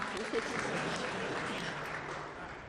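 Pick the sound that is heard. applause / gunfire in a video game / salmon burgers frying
applause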